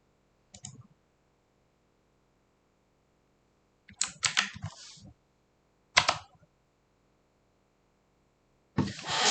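Short bursts of computer keyboard typing separated by pauses, with quick clusters of clicks near and fairly quiet in an otherwise still room.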